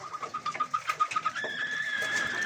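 Racing pigeons coo in a loft, soft repeated throaty calls pulsing close by, with a steadier high chirping joining in over the second half and no voices.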